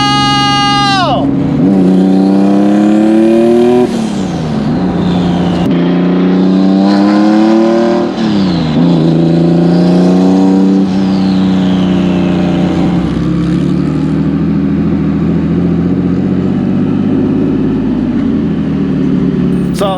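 An EG33 flat-six-powered Subaru WRX STI drives and revs hard, engine climbing through repeated gear pulls with brief shifts between, loud and close from inside the car, then settling to a steadier drone.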